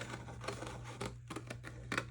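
Scissors snip through paper in short, quiet bursts, a few separate cuts close by with brief pauses between them.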